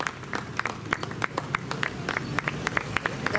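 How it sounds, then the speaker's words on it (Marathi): Scattered audience clapping at a Rotary ceremony honouring a guest, separate sharp claps in an uneven rhythm from a modest crowd, fairly close and moderately loud. "जोरदार टाळ्या आपण वाजूयात"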